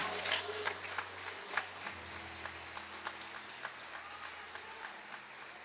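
Church congregation applauding, a steady wash of many hands clapping with scattered sharper claps, moderately distant and fairly quiet throughout, with a low hum underneath.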